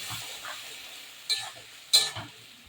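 Ginger, garlic and green chili paste sautés in a pan for chilli paneer, giving a faint, soft sizzle broken by two sharp spatula scrapes against the pan.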